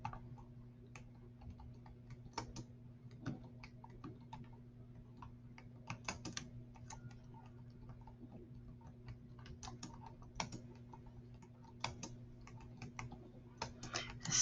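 Typing on a worn, failing computer keyboard, a steady stream of soft close clicks and key taps in irregular bursts over a quiet room hum, with no talking.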